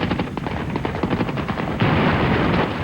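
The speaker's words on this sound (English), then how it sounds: "Spectacular explosion goes off without a hitch." A house demolition explosion set off on a film set after a countdown, heard as a loud, sustained rumbling roar of rapid cracking blasts that swells into a denser, heavier surge partway through.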